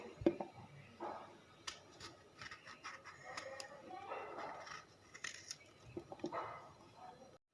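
A large white eggplant being cut into pieces with a kitchen knife, with soft scattered cuts and scraping close by over low kitchen background noise.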